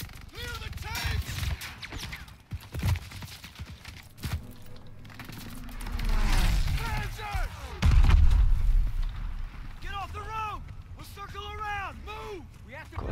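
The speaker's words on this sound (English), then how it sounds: "There's nothing much scarier than like the sound of a Stuka" Stuka dive bombers attack in the Call of Duty WW2 campaign, with rising, whining dives and heavy booming explosions and gunfire building mid-clip, all mixed under ongoing game dialogue and shouting.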